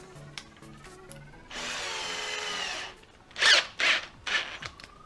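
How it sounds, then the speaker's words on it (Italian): A Parkside hammer drill from Lidl, set to speed 2 in drill mode with a 6 mm bit, bores holes in 3 mm thick metal angle. A steady, close whine runs for over a second, then three shorter rising bursts follow. "Prova a praticare anche dei fori su un angolare di 3 mm di spessore."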